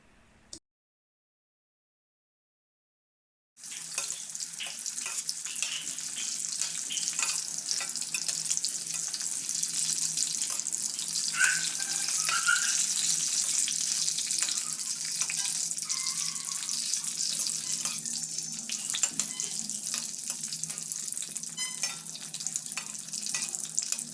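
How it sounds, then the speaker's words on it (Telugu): Stuffed capsicums for gutti capsicum chicken deep-fry in hot oil, a dense, continuous crackling sizzle that starts abruptly after a few seconds of silence and holds steady and close with small pops throughout. "ఆయిల్ హీట్ అయ్యాక ఈ క్యాప్సికమ్స్ని అందులో వేసుకొని డీప్ ఫ్రై చేసుకోండి"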